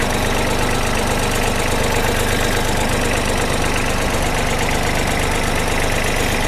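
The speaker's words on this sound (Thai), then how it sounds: "เครื่องยนต์ปกตินะคะ" A Kubota B2140S compact tractor engine idling steadily, close and loud, with a constant knocking diesel rumble and vibration and no talk.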